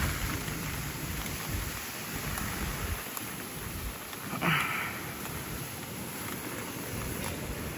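Heavy rain and gusting wind from Typhoon Kong-rey at landfall in Taiwan, a dense, steady close roar throughout with a brief stronger surge midway.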